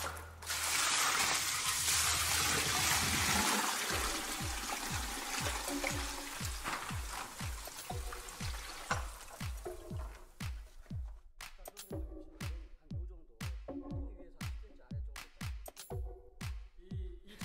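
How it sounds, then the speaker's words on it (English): Fifty liters of water go in all at once while a Jadam sulfur organic pesticide is mixed, a loud rushing gush for several seconds. After it fades, a person talks over the remaining quiet. "Now I'll add 50 liters of water that previously prepared in advance next to me."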